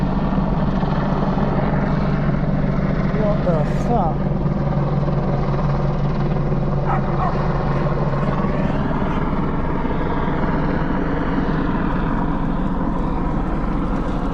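An Apache helicopter passes overhead, its rotor drone loud and continuous for the whole stretch, while someone talks and briefly exclaims over it.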